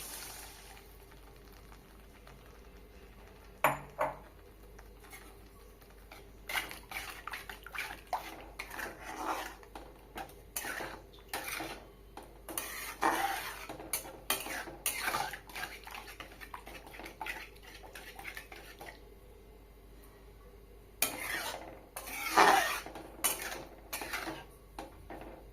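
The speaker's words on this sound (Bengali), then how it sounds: "নারকেলের দুধ দিয়ে দেবো।" Coconut milk goes into a pot of Bengali shrimp curry amid scattered clinks of utensils against metal, liquid splashing and sloshing, and intermittent clatter, close by and moderately quiet.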